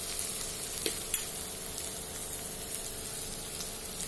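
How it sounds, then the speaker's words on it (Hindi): Masala spices frying in oil for a vegetable curry, a soft continuous sizzle with faint stirring scrapes and a few small pops, fairly quiet and steady. "जब तक मसाले पके ना अच्छी तरह से, तब तक कोई स्वाद ही नहीं आता सब्जी में, जब तक तेल अलग ना हो जाए इनमें से"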